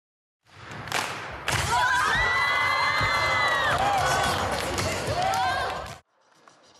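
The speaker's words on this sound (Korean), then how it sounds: "묘기에 가까운 춤 동작에 환호성이 터집니다." Students in a middle school gymnasium cheer and shout at a breakdancing performance, a loud sustained burst of crowd cheering with rising whoops and thumps, starting abruptly and cutting off near the end.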